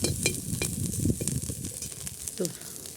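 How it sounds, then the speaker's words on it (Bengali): Prawn, potato and eggplant chorchori cooking in a pan on a stove: a steady close sizzle with occasional stirring scrapes and brief faint voices. "দেখো চিংড়ি মাছ দিয়ে আলু বেগুন দিয়ে চচ্চড়িটা হচ্ছে"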